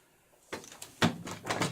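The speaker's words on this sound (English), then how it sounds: "To engage the Intruderstop, raise the brace and drop it into the closed position" An Intruderstop door brace is raised and dropped into its closed position against a door, giving a sharp clunk followed by a couple of rattling knocks in close succession.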